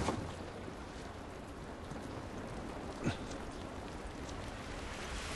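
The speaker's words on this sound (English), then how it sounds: "This rain ain't gonna do us any good." Steady rain falling in The Last of Us, a dense even hiss of drops on surfaces running throughout, with one brief louder thud or knock partway through and no talking.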